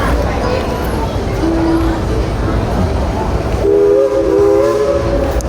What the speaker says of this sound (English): Oh, the train's about to leave.